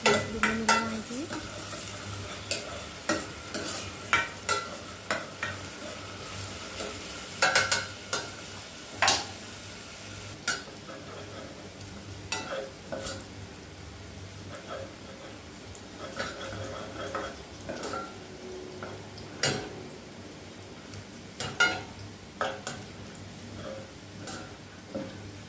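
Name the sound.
stirring frying food in a pan for Egyptian fatta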